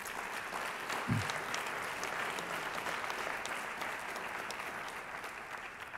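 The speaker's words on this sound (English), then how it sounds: "Please give them a round of applause." Audience applause for donors at a volunteer recognition awards ceremony, a steady, fairly distant wash of many hands clapping throughout, with a brief low thump near the start.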